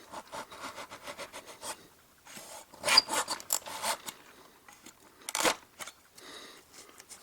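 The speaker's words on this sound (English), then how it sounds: "I may have to wax my saw." A hand saw cuts small metal pins for model railway track, quiet rasping strokes in short bursts with pauses and a few sharper scrapes, close and alone.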